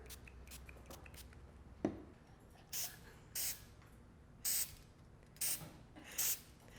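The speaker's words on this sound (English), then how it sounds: "we're just going to spray along with some vinegar." Vinegar sprayed from a hand spray bottle onto a mirror, a series of five or six short, sharp hissing spritzes at a steady pace over quiet room noise, close and fairly soft.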